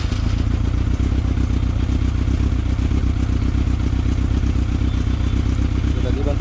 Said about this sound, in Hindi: तो हम स्टार्ट करेंगे मोटरसाइकिल।